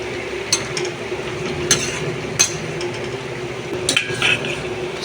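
A metal lid comes off a pot of prawns and Malabar spinach, making several sharp clinks and scrapes over a low, steady simmer and sizzle.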